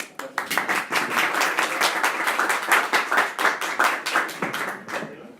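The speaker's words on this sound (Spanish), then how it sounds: "Sí, un aplauso" Applause follows a talk on optical networks: a small audience's close, crisp individual claps blend into steady clapping that rises quickly, holds, and tapers off.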